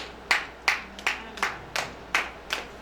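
A lone person claps slowly during a church sermon, seven separate, evenly spaced claps ringing out clearly in an otherwise quiet hall.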